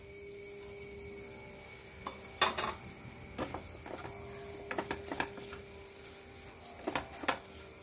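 Fried prawns tumbled into a pan with curry leaves for a prawn roast and stirred, giving scattered metallic scrapes and clatters of a utensil against the pan over a faint steady kitchen background, no talking.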